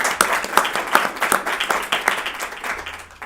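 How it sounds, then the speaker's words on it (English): Conference audience applauding the panel speakers after an afternoon session on human rights courts and climate change, a steady crowd of many hands clapping that holds throughout and thins slightly toward the end. "So I think we can applaud."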